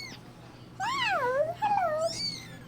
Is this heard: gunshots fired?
no